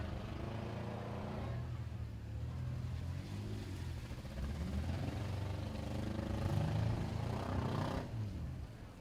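An overheating Toyota Camry engine in limp mode gives a steady, rough drone with a low rumbling hum that swells slightly and strains, continuous for several seconds with no voices, at a fairgrounds autocross and demolition derby.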